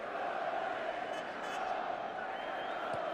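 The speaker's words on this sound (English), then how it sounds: "Hull FC, whose supporters are in good voice behind those posts" Hull FC rugby league supporters massed behind the posts in a stadium, a steady broad crowd roar with chanting voices sustained throughout, no single burst standing out.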